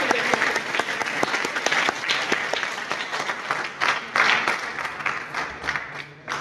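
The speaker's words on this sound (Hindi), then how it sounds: "दिल से जोरदार तालियां।" A crowd claps steadily and enthusiastically for several seconds, a dense wash of applause that fades slightly near the end.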